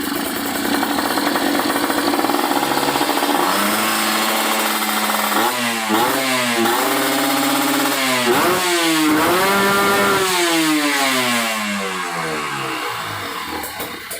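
A Kawasaki Ninja RR two-stroke engine with a tuned carburetor revs hard at high RPM, its raspy, buzzing note sweeping up and down in repeated loud climbs and drops, close and alone.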